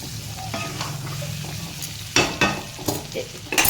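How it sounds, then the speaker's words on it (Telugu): Lentils fry in a pan with a soft sizzle, broken by several sharp spatula scrapes and stirring strokes that grow louder toward the end. There is no talking. "ఇలా వేగుతోంది చూసారా, మధ్య మధ్యలో మనం కలుపుతూ ఉండాలన్నమాట."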